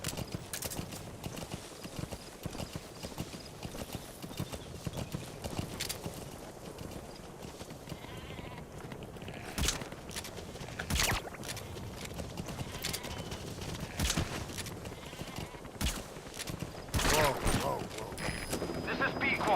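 Horse hooves clip-clop at a steady, brisk rhythm in Metal Gear Solid V, close and continuous, with occasional sharper thuds and faint distant gunfire mixed in.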